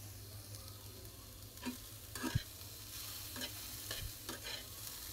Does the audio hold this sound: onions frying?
yes